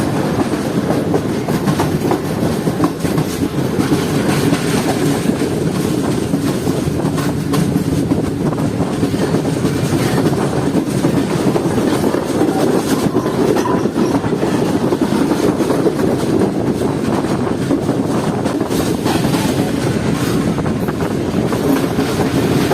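The Sir Syed Express runs at speed between Rawalpindi and Karachi near Faisalabad, giving a loud, continuous rumble with rhythmic clickety-clack of wheels on rail joints heard from inside the carriage.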